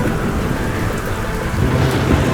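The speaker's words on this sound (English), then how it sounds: "There's still some rain in the air and visibility is still low." Heavy rain and a thunderstorm at sea, heard from aboard a naval ship sailing through the storm: a dense, steady roar of rain with low rumbling thunder, loud and unbroken throughout.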